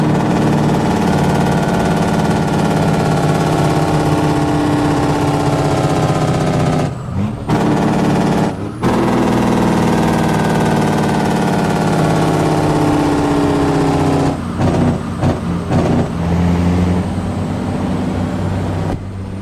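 Caterpillar C15 truck engine in American Truck Simulator idles steadily and loudly, with a continuous low drone that has a few brief dips and soft air-brake hisses.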